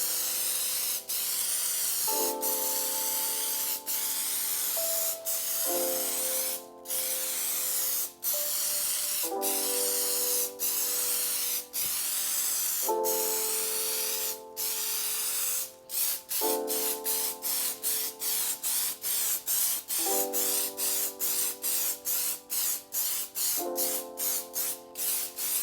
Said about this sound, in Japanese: 色がにじまない艶出しニススプレーを使います。